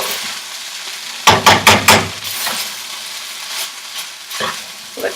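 Cooked rice for shrimp fried rice lands in a hot pan with a quick run of four loud clattering thumps, followed by a softer sizzle and a few light scrapes.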